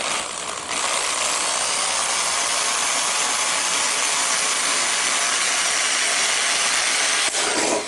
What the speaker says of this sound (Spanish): voy a proceder a perforarla con mi broca metálica con mucho cuidado